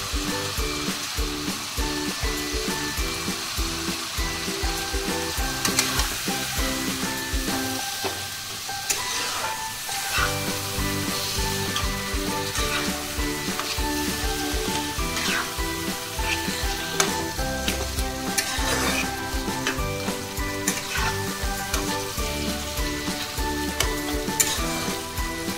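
Boiled taro greens sauté in a hot pan, a loud continuous sizzle broken by repeated scraping and clanking strokes as a spoon stirs them.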